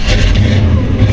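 A 1966 Chevrolet Chevy II Nova SS engine catches and settles into a steady, loud, close idle rumble, with a continuous low throb running through the whole short stretch.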